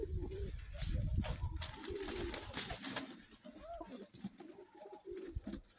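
Low, throaty cooing from a white-eyed Kryumaki pigeon repeats in soft rolling phrases, fairly close, with a few faint chirps and rustles around it.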